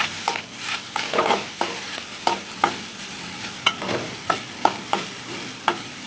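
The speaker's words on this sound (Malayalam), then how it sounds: "ഇനി വറുത്തെടുക്കുക" Grated coconut roasts in coconut oil with onion, fennel and curry leaves for an okra curry, giving a soft continuous sizzle punctuated by about a dozen crisp taps and scrapes of the stirring spoon in the pan.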